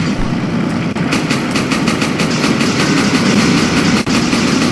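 A truck engine idles steadily in Resident Evil 4, a continuous loud rumble with a faint rhythmic pulsing throughout, no talking.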